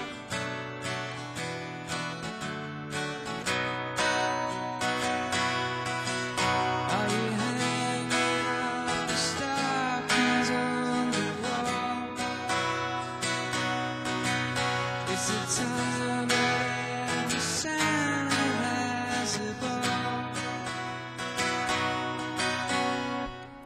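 Steady strummed chords on an acoustic guitar, a full, continuous rhythm played close up for over twenty seconds with no voice.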